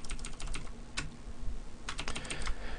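Rapid clicky keystrokes on an N-keyboard mechanical keyboard with blue switches, typed in bursts with short pauses while playing MapleStory, close and fairly quiet with no talking.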